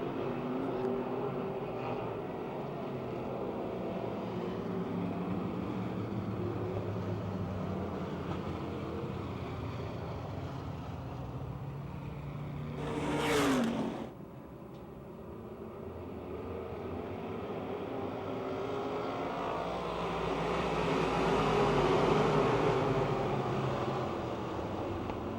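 Race cars battling for position at Pennsylvania Motor Speedway near Pittsburgh in 2008, a steady, loud engine roar heard from trackside, with one car sweeping past closely partway through.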